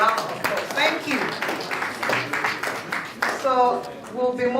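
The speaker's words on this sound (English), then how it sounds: "A warm welcome and another round of applause." Steady clapping from a conference audience at the AGPMPN Lagos 2019 AGM, a dense patter of many hands that continues while a voice talks over it.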